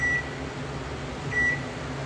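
A kitchen timer being set gives two short, thin electronic beeps, one at the start and one near the end, over a steady low appliance hum in a quiet kitchen.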